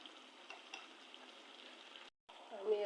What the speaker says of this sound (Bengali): আমি এখন এটা আলতো করে ভেজে নিচ্ছি মিডিয়াম লো আঁচের মধ্যে